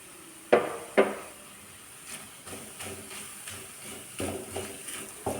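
Chilli powder is stirred in a pan: two sharper knocks of the utensil come first, then softer, scattered scrapes and taps, close but quiet.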